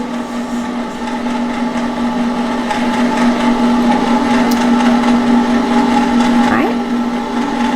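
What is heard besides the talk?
ice cream maker churning chocolate peanut butter ice cream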